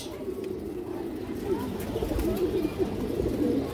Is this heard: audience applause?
no